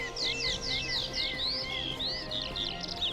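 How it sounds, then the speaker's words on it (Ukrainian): Jungle ambience in the video game Chronicles of Vipers, with birds chirping and tweeting in rapid repeated calls over a low background hum. The calls stay bright and busy throughout, with no voices. "пташки прям перекрикують жорстко"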